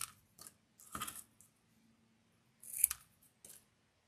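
Scissors snip through paper while trimming freestyle cut-out shapes, giving several short, close cuts in quick bursts separated by pauses in a quiet room.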